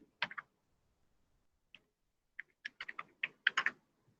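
Someone types C++ code on a computer keyboard: a few quiet keystrokes, a pause, then a quick irregular run of close clicks.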